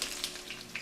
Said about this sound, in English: So I'm going to add all the onions just now,